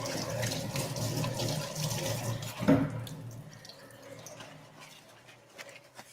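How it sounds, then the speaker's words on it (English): Kitchen tap runs steadily as hands are washed under it, with a splashy, close rush of water that briefly surges, then tapers off into quieter trickles and drips. "And don't forget to wash your hands after the egg."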